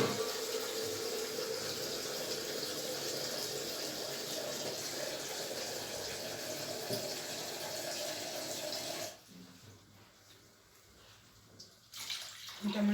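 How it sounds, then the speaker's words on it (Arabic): Water poured from a tap onto chicken in a cooking pot: a loud, continuous gushing splash close by for about nine seconds, then it stops abruptly, leaving quiet room sound with light clinks before a brief resumption. "انا هنزل عليها بالميه يا حبايبي بقى واسيبها برضك تغلي"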